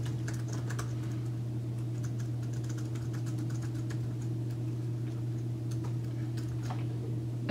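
Fingers tap out an email address on a computer keyboard in quick, light bursts of clicks over a constant low electrical hum, with no talk.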